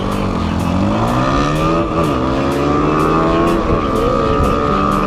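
Lifan 200 fuel-injected motorcycles racing, engines roaring loud and close with rising and falling revs through gear changes, the continuous drone layered by several machines.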